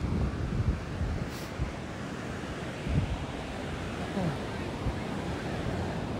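Surf rolling onto an ocean beach under steady wind buffeting the microphone, a continuous low wash with occasional swells, and faint voices now and then.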